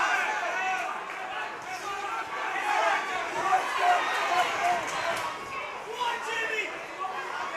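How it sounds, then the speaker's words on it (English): Boxing crowd at an Irish light heavyweight title fight in Galway cheering and shouting for the fighters, a steady roar of many voices with rising swells, heard close and loud throughout. "The crowd getting behind their respective fighters"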